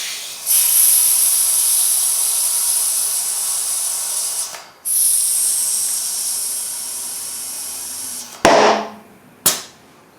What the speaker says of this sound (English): trying to set the beads. You'll hear them ping when it sets.